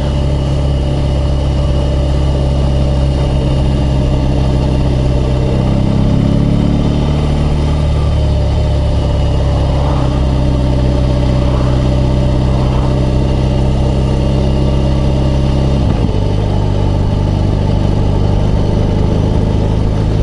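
A BMW R18 B bagger motorcycle engine running at low revs, a steady deep throb held close and loud for the whole stretch, with slight shifts in pitch as it lugs along.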